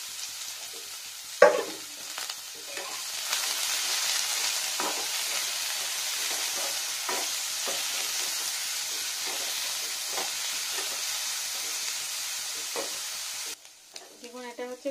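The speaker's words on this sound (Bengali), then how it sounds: "দিয়ে আলু একটু ফ্রাই করবো" Potatoes fry in oil and water in a pan, giving a steady loud sizzle and hiss with occasional stirring scrapes before the sound drops off near the end.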